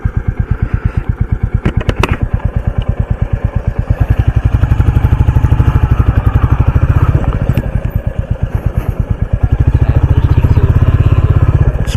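A motorcycle near the Kangsabati river putters steadily up close, its engine pulsing in a dense low rhythm, with a few sharp clatters early on as it rolls off a bamboo bridge and climbs onto a concrete slab.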